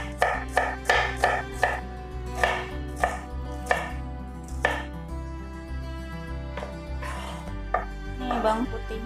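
A knife finely slices an onion on a cutting board in quick, steady, close chops, with a few short pauses, while a low kitchen hum runs underneath.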